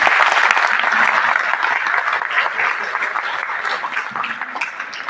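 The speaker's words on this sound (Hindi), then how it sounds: "ताली कम आई" Audience applause follows a motivational talk in a Hindi-speaking hall, a dense sustained clapping that stays loud for about five seconds before easing slightly, with no voices over it.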